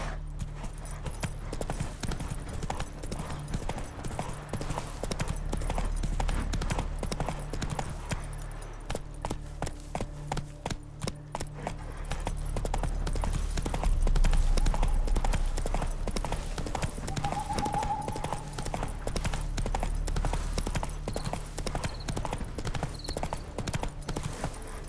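Horse hooves from The Witcher 3: Wild Hunt, a continuous fast clip-clop of galloping under a low ambient hum, steady and close for the whole stretch, with a brief faint whinny-like tone midway.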